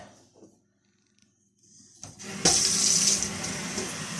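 Tap water comes on after near silence and pours steadily into a vessel at home, a close, bright rushing stream that holds at an even level.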